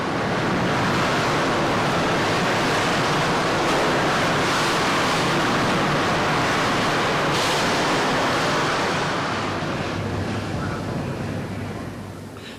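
Oxypropane flame scarfing a steel bloom in a rolling mill, a loud, steady broadband roar and hiss that holds constant for most of the stretch before easing slightly toward the end, with no voices.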